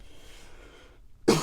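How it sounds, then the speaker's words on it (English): A single harsh cough bursts out at the end after a quiet moment of low background noise. "smoker's cough."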